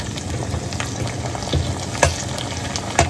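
Garlic and tomato fry in a wok over a cooking fire, a dense crackling sizzle close by with a few louder knocks of a spoon stirring against the metal.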